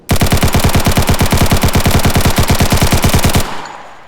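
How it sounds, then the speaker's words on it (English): A modified AK rifle fires one long, rapid automatic burst in the video game TOWN. Evenly spaced, loud, close shots run for over three seconds, then stop abruptly and leave a short fading tail. "Now we try the AK with the modified stuff."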